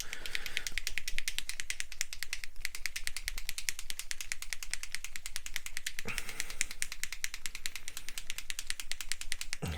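A rapid, steady metallic rattle repeats without pause, a silver spray paint can being shaken hard close by, briefly interrupted once.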